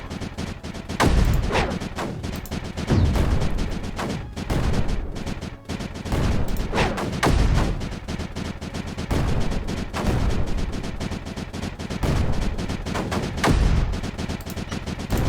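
Mortar units fire nonstop in the strategy game Creeper World 4, a loud dense run of overlapping booms and crackling shots with no pauses.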